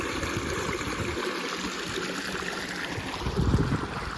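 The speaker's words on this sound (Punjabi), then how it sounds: "ਇਧਰ ਆਪਣਾ ਮੋਟਰਾਂ ਦਾ ਪਾਣੀ ਆਉਂਦਾ ਜੀ" Water from a pump motor pouring into a direct-seeded paddy field, a continuous rushing, gurgling flow heard close by, with a slight surge toward the end.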